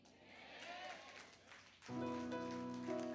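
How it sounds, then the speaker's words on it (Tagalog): Congregation at a church anniversary service clapping loudly, a dense crowd wash that swells suddenly and holds steady, with music or voices underneath. "Yung malakas na palakpak para, oh, hallelujah!"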